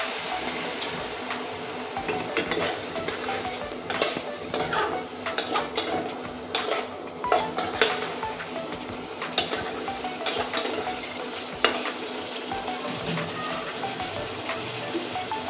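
Masala sautéed with a splash of water in a pan, the spatula scraping and clinking in steady strokes over a gentle, continuous sizzle, close and fairly quiet.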